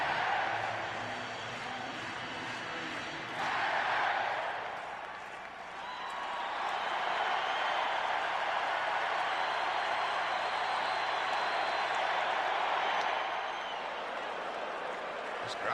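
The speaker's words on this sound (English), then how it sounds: "They cheer and they groan and they yell, and they're into every pitch" A packed baseball stadium crowd roars in a steady, dense wash of cheering and yelling at Game 6 of the 1991 World Series, Braves at Twins in Minnesota, with a swell near the start and broadcast commentary running underneath.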